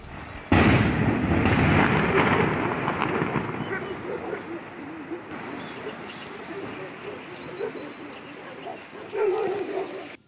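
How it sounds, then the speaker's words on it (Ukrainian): Blasting at a stone quarry near a village, recorded from a residential yard: a loud burst of explosive noise opens and then fades into a long rumbling wash, with dogs barking in the background. "На вибухи в кар'єрі скаржаться жителі Соколівки."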